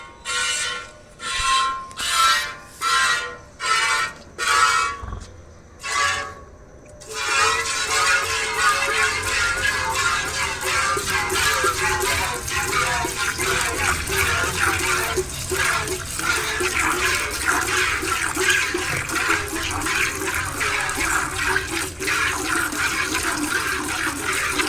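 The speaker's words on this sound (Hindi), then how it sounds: "तो यहाँ मैं निकालने लगी हूँ दूध" Hand-milking a cow into a pail in a rural Indian farmyard, the udder first washed with clean water: near, continuous watery hissing streams with pulsing squirts at the start, then a steady rushing flow.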